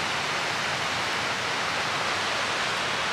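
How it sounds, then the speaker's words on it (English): Waterfalls at Silver Falls State Park produce a constant, loud, broadband rush of falling water, steady and unbroken with no other sounds. "It'll lead you around all these different waterfalls."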